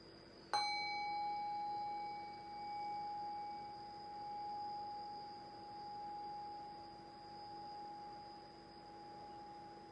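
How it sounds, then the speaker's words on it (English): A single meditation bell is struck once near the start, then its clear ringing tone slowly decays over about nine seconds with a gentle wavering shimmer, alone in quiet surroundings. "And right now I'll ring the sound of the meditation bell."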